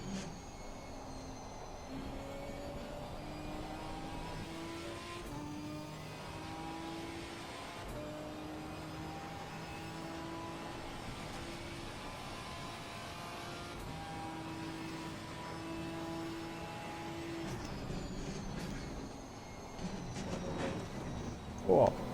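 Race car engine in Gran Turismo 4 drones steadily, with its pitch stepping up through the gears and dropping back repeatedly, broken by brief gaps. Someone talks over it, and a louder bump comes near the end.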